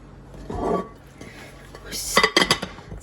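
A lid goes onto a pot of beet-leaf cabbage rolls with a brief cluster of metallic clinks and rattles near the end, after a soft earlier shuffle, close by in a quiet kitchen.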